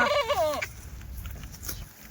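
Kathiawadi goats tied up in a shed give one loud, wavering bleat close by, then fall quiet against faint background noise.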